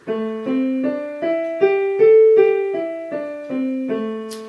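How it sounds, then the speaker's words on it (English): Piano notes climb then descend through a minor pentatonic scale, about a dozen evenly spaced struck tones, each ringing clearly, close and solo with no voice. "So I'm just going to play you now the minor pentatonic,"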